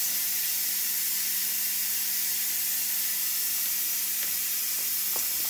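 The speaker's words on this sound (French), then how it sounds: "Faut que je fasse sortir le steam avant d'ouvrir le poêle." Steam hissing out of a pressure cooker being vented before opening, a loud, continuous broadband hiss with a faint steady hum beneath, alone without voices.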